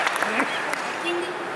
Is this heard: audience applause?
yes